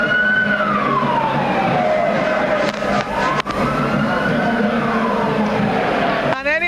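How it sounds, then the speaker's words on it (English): Wailing emergency-style sirens of presidential motorcade outriders sweep up and down loudly and close, sustained throughout with heavy background crowd and street noise, ending in a faster warbling yelp. "the sirens wailing will give way to the distinctive bagpipes"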